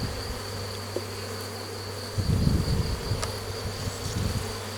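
Honeybees on a hive frame during an apiary visit hum in a dense, close, continuous buzz that swells louder partway through.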